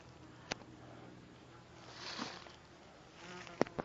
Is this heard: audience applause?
no